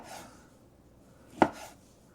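A single sharp knife chop through a block of tempeh on a cutting board, cutting it into short pieces, heard close and alone against quiet room tone.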